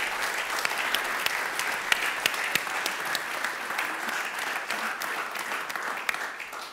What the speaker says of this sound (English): A big clap for them also and for this letter.